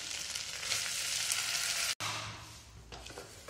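Red lentils (masoor dal) fry in hot oil in a pan with green chillies and ginger-garlic paste, giving a steady close sizzle that cuts out for an instant midway, then carries on a little softer.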